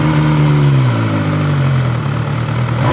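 An MV Agusta Superveloce 1000 with an inline-four engine and an Akrapovic quad-exit titanium exhaust rumbles loud and close with a deep, barking note. The revs drop back to a steady idle that holds for about three seconds, with no voices.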